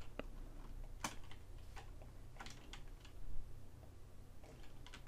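Computer keyboard keys pressed during 3D character modeling, a scatter of sharp, fairly close clicks and taps with irregular rhythm and short gaps, over a faint steady background hum with no talking.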